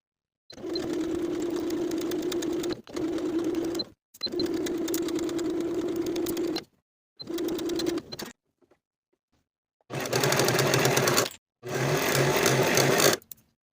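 A sewing machine stitches pockets onto a dress in six runs, each lasting one to two seconds, with a steady motor hum and brief pauses between runs, heard close and alone.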